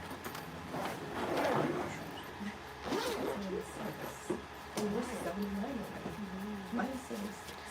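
A mushroom grow bag is zipped shut with a few scratchy zipper pulls, close and moderately loud, interleaved with a person talking.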